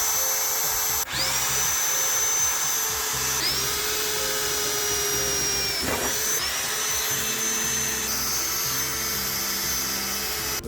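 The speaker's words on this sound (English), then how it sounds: "We're gonna just finish up the rest of the holes now." A power drill bores holes for a flat fender install on a Jeep TJ, giving a loud, continuous high whine with brief dips and restarts between holes.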